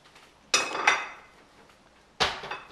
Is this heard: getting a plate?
yes